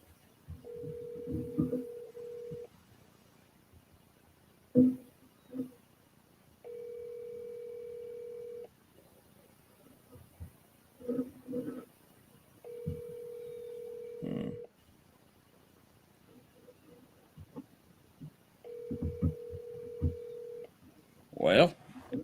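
Phone call ringing out toward voicemail: repeated long ringback tones in steady on-off cycles, with scattered talk, clicks and handling noises between the rings.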